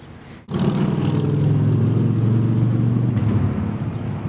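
A heavy vehicle at an intersection in Carrizo Springs starts up abruptly with a loud low rumble, then a deep engine drone holds steady close by before gradually easing.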